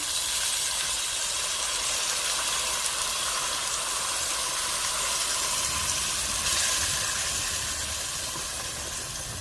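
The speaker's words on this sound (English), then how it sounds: "I'm getting ready to add my beef broth to the onions and the roast" Continuous bright hissing and sizzling as beef broth is poured over onions and a pot roast in a hot pan, a steady wash of sound with a slight swell partway through.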